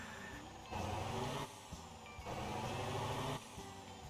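A truck in the Motor Town driving game shoves the player's vehicle, giving a steady low engine drone. Two louder surges of grinding, pushing noise rise over it, each lasting under a second, with a few soft knocks in between.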